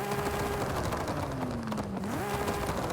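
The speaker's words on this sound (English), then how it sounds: "the anti-lag, which sounds like this." Car engine with anti-lag in the Forza Horizon 5 video game: a steady, loud droning tone that sags slowly in pitch, then climbs again, with a faint crackly texture throughout.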